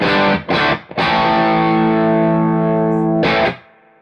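A Fender Telecaster electric guitar with a distorted tone: two short stabs, then a long sustained chord ringing out loud and close before a final strum that fades away.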